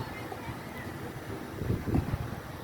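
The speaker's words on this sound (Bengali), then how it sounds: "প্রচণ্ড বাতাস, তীব্র বাতাস, ঝড়ো হাওয়া।" Strong Nor'wester (Kalbaishakhi) storm wind rushes past the microphone in a steady roar with buffeting gusts that swell toward the end.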